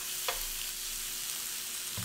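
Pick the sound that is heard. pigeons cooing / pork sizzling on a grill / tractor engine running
pork sizzling on a grill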